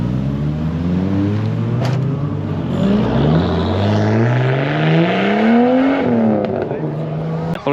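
Turbocharged 1990s Japanese car engine with a manual gearbox revving loudly nearby at a car show, its tone climbing and falling through repeated rises, with people talking faintly underneath.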